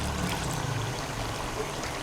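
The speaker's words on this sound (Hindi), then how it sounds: "थोड़ा सा पानी लगाता है" A steady, soft stream of water pours and trickles into a cooking pot of chicken karahi for a couple of seconds, quiet and continuous with no talking.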